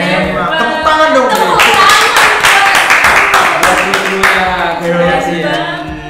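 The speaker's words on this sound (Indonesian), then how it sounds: "Tepuk tangan dong." A studio crew on an Indonesian TV talk show claps loudly and steadily for several seconds, with background music tones running underneath.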